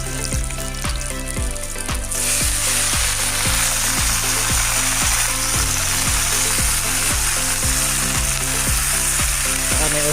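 Fresh kangkong (water spinach) hits a hot pan with oil, setting off a loud, steady sizzle and frying hiss that carries on continuously over a faint rhythmic background beat.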